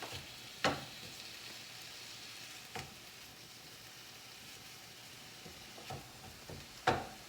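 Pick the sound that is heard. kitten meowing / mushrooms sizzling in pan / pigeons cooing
mushrooms sizzling in pan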